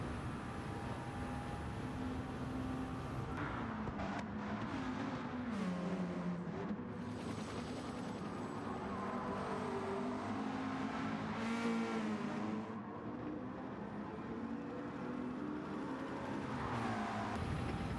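A McLaren Group 4 race car engine in Gran Turismo 7 drones continuously at high revs, with rising and falling pitch through gear changes, loud and sustained throughout.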